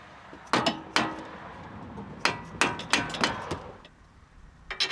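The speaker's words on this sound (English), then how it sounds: "Now let's put the knuckle bolts back on." Metal knuckle bolts are fitted into the front strut knuckle of a Subaru Crosstrek, producing several sharp metallic taps and clanks at uneven intervals, close by, with no speech.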